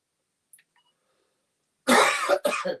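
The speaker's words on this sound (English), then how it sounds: "Sorry, I had a cough again." After a near-silent stretch, a person coughs loudly twice in close succession, harsh and close to the microphone.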